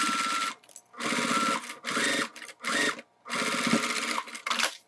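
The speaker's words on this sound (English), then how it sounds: "Sew from the side where we can see the seam." A close sewing machine runs in four short bursts while stitching the lining of a zipper wallet, each a steady mechanical whir with brief quiet gaps between.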